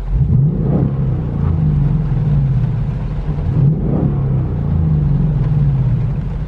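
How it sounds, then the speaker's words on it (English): A new Ford Mustang GT on its stock exhaust rumbles loud and close, its engine swelling through two revs around a steady deep idle, with no voices. "This is how my baby sounds with the stock exhaust"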